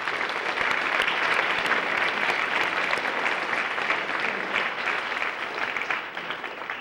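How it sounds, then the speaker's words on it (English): A school fine arts award program audience claps in a continuous round of applause, steady and full throughout before thinning slightly near the end. "So I'd like you to give a round of applause for a job well done and for their contribution"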